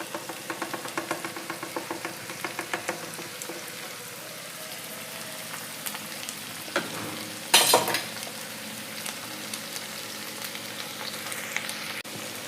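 Tomatoes hit hot oil already tempered with mustard seeds, curry leaves and green chillies, giving a steady close sizzle with faint crackles and a brief louder stir-and-scrape burst midway before settling back to frying.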